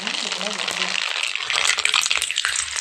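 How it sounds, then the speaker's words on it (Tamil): Mustard seeds crackle and sizzle sharply in hot oil, tempering a garlic kuzhambu. A dense, loud popping spatter runs throughout, with a brief voice at the start. "தாளிச்சுக்குவோம் வந்து கடுகு உள்ள வரலாம்"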